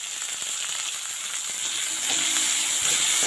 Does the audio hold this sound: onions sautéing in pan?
yes